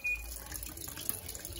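Water pours steadily into a Panasonic 14 kg cyclone-system top-loading washing machine (NA-F140B6) filling for bed linens. A faint, continuous rushing hiss plays with no talk.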